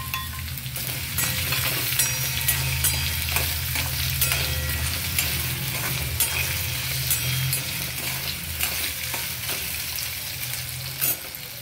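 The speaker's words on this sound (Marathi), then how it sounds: "मी बटाटा शिजायला टाकते।" Cubed potatoes sizzle and fry in oil in a pan for a spinach-and-potato bhaji, a steady close crackle broken by periodic scraping stir strokes of a spatula against the pan, with no talking.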